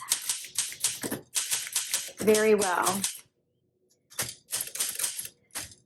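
Keys clack in rapid bursts on a 1962 blue Olympia SM7 manual typewriter, a heavy mechanical patter with brief pauses, while a person speaks briefly partway through.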